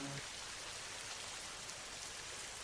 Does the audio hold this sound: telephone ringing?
no